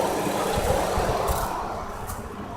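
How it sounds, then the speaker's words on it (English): A Chrysler Concorde 2.7L engine, just back together after timing and water pump work, idles in a steady, even hum close by, with a faint rattle and no talk. "This engine runs so beautifully smooth."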